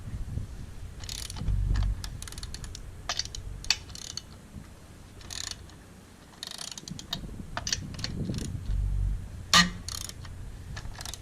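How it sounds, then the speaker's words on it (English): Mechanical ratcheting and clicking of a breaker bar working lug nuts loose on a car wheel, with a few bursts of metallic ratchet activity and low thumps over a steady outdoor hiss. "So the leverage of the breaker bar, there's no trouble in loosening these up"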